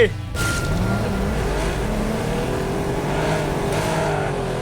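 A Porsche race car engine in the racing video game Ace Racer drones steadily and loudly with shifting pitch, under excited game music and chatter, with a player talking over it throughout.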